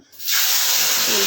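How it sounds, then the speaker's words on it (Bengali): Pieces of katla fish dropped into hot oil, a sudden loud hiss that jumps up after a brief quiet start and then holds as a bright, steady sizzle. "এবার আমি মাছগুলো দেবো, বেশি ভাজবো না, হালকা ভাজবো"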